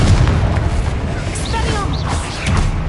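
A Confringo fire-blast spell in Hogwarts Legacy bursts with a booming explosion, followed by crackling, whooshing magical effects and another dull impact, with a voice briefly present in the mix.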